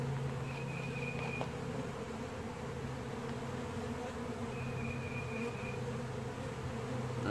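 Honeybees buzz steadily and densely at an open hive during an inspection, a continuous close drone with a few higher whining bees passing near, and no talking.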